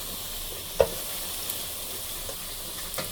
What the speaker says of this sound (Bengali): হালকা ভেজে নেব মাছটা